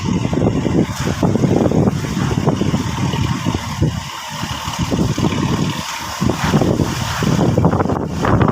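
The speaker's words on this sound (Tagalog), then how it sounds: "Lakas ng hangin." Strong wind at a coastal road construction site buffets the microphone with a steady, loud rumbling roar that surges and dips, and no voices are heard.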